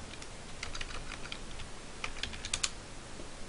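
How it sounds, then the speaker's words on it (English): Quick clicking keystrokes on a computer keyboard while entering a router address into a browser's address bar, close, steady and fairly quiet with a few sharper taps. "you type that in your address bar"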